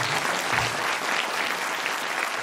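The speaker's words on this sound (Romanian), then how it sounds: "Să-i aplaudați înainte pe membrii orchestrei ansamblului folcloric Meseșul." Festival audience applauding the orchestra of a Romanian folk ensemble at a vocal soloist competition, a thick, steady roar of clapping from a large crowd filling the whole moment.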